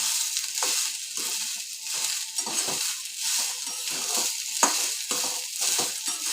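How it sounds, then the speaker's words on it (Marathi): Corn kernels stirred in a hot pan while roasting, with repeated scraping strokes and a soft dry sizzle, close and steady with no talking. "सतत हलवत राहायचं."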